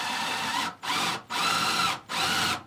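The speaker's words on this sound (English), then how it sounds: "I'm kind of just drilling a small starter hole and then I'll zip the actual screw all the way down through it" A power drill drives a screw into the wood floor of a Sprinter van conversion, running in four steady whirring bursts with short pauses between them, close and loud.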